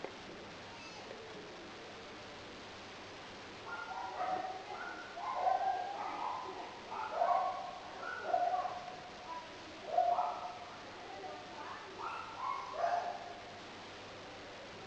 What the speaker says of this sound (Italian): questa volta però vi assicuro non è Aki che sta abbaiando